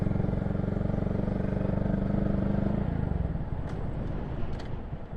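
A 2022 Honda Grom motorcycle engine drones loudly as it accelerates in third gear, holding a buzzing tone for a few seconds before easing off and fading slightly.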